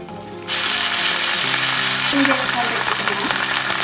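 Sesame seeds and dried red chillies frying in a pan for drumstick-leaf chutney, a steady close sizzle running throughout with faint stirring scrapes and clicks.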